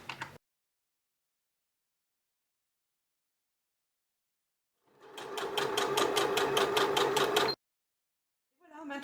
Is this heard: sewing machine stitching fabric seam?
yes